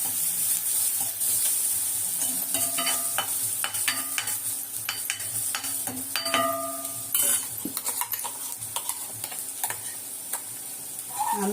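Liver masala cooking in a pan, the ingredients sautéing and sizzling steadily while a spoon stirs and scrapes against the metal in irregular clinks and taps, close and continuous with no talk.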